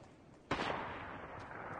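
A single sharp gunshot in Fortnite Season 3 cracks out with a sudden loud onset, then a rumbling tail of echo and distant game noise lingers on for over a second afterward.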